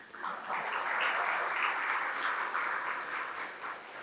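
Steady round of audience applause at a business luncheon, a room of people clapping together at moderate volume, swelling briefly then holding evenly for a few seconds.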